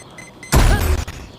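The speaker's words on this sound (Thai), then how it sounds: "ระเบิดใส่ตัวเองอีก" A single short, loud muffled blast from an explosion in the video game Valorant, cutting in sharply and fading within half a second, heard alone against a quiet background.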